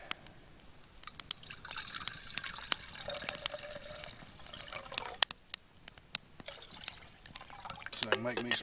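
Water pours and trickles into a pot for making coffee at a campfire cooking site, a soft burbling fill with scattered drips and clinks, quiet and close.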